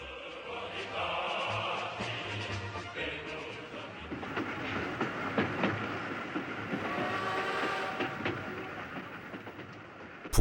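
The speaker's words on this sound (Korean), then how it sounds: "북한으로 향하고 있는 기차 안." Train running on the rails with a steady clickety-clack rumble and a whistle, used as a radio drama sound effect for a Korean War story, loud and continuous throughout without talk.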